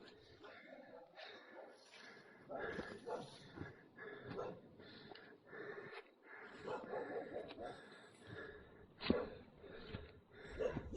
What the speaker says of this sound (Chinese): 大老远的就听到狗叫声